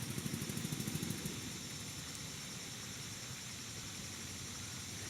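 A car engine idles with a rough, sputtering putter, steady and fairly close, a few louder chugs at the start then an even rumble.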